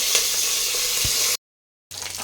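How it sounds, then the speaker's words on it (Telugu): Onions and curry leaves sizzle steadily in hot oil, a dense bright frying hiss with a faint clink, cut off by a brief silent gap before the sizzling resumes. "అది గోల్డెన్ బ్రౌన్ కలర్ వచ్చే వరకు వేయించుకుందాం."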